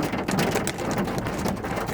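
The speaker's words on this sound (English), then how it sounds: "it's raining right now" Steady rain falls outdoors after a sunny spell, a dense, even hiss of drops with no break and no voices over the two seconds.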